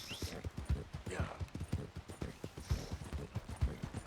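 Horse hooves clip-clop at a steady walking rhythm in the video game Red Dead Redemption 2, with moderately close, even beats continuing throughout over faint background ambience.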